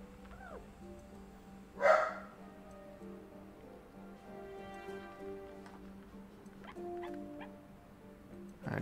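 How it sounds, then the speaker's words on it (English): A dog barks at the back door of a house, one loud close bark followed later by fainter yips and whines, over a steady low hum and soft ticking, with no talk. "just barking at the back door"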